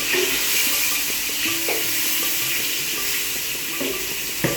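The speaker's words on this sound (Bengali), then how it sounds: "আলু মোটামুটি ভাজা হয়ে গেছে" Potatoes frying in a pan give a close, continuous sizzle, with faint stirring or scraping clatter now and then.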